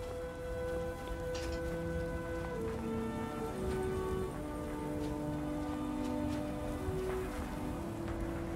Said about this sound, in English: We have some storms and rain out here at the moment.